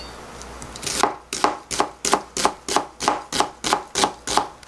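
Onion sliced thin with a knife on a cutting board, about eleven crisp, evenly spaced chops in a steady rhythm, close and clear.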